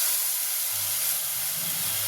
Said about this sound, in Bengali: এবারে আমি এই তেলের মধ্যে এই সর্ষের জলটা দিয়ে দেবো।